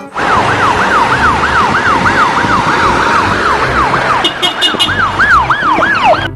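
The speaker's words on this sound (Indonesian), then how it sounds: "Ada mobil ambulan" A toy ambulance's wailing siren rises and falls in a steady repeating pattern, loud and continuous, with a few high electronic beeps joining near the end.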